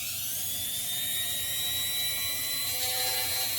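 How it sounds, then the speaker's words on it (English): A Dremel rotary tool cuts a notch around a wooden arrow shaft, giving a high, steady whine with a rising pitch over a low motor rumble, close and continuous, with no talking. "all I'm doing is taking a Dremel"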